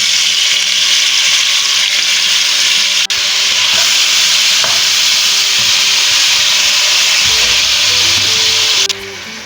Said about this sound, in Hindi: इनको अबाउट हाफ मिनट हम फ्राई करेंगे और इसमें टोमेटोज़ ऐड कर लेंगे।